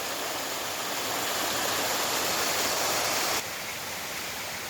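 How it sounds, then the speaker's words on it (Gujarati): A mountain stream rushes loud and steady beside the road to Jata Shankar near Girnar, a dense unbroken hiss of water with no voices, its level dipping slightly near the end. "જટાશંકર જાતા માર્ગમાં ખૂબ જ આવા સરસ મજાના ઝરણા જોવા મળશે."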